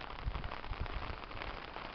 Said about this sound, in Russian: Показала вам, какой у нас дождь.